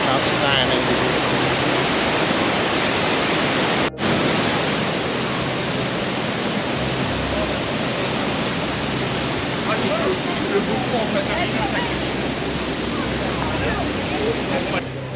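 A waterfall in Krka National Park, Croatia, gives off a loud, unbroken rushing roar of falling water that stays steady from start to finish, with a voice faintly audible under it.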